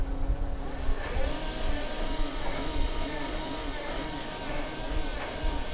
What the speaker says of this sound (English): We're moving faster and slower to adjust how much material you're putting into the pug mill. And we can go full speed.